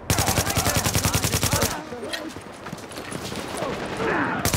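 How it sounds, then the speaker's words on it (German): Automatic weapon fire from the video game The Division hammers out in a fast, even rhythm for nearly two seconds, then gives way to scattered shots and talk-like sounds, with another burst starting at the end. "ich schieße jetzt, sonst wird es mir zu langweilig"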